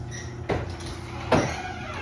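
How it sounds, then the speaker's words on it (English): A garage door opened with a remote, heard as two sharp clunks about a second apart over a steady mechanical hum. "Just see now, I'm able to open the garage door."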